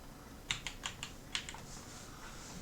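Fingers tap out a short burst of keystrokes on a computer keyboard, about half a dozen faint, crisp clicks close-up, followed by a quiet pause.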